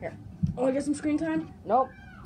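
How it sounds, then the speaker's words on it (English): An indoor house cat lets out a short, clear meow near the end, while someone talks close by. "Oh god, there's a cat on screen."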